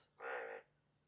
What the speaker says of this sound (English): What animal is that? Is that a frog?